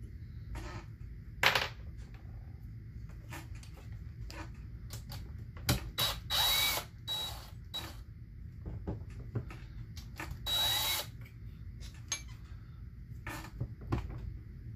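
Ratchet and metal clicks come in short irregular bursts while the last bolt is worked out during a McCulloch Model 73 chainsaw rebuild, with brief louder spurts of turning between quiet gaps.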